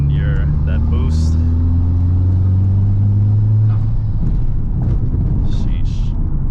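Honda Civic Type-R fitted with an Invidia R400 exhaust and an aftermarket intake accelerating, a deep droning engine note rising steadily for about four seconds before easing off, loud and close throughout.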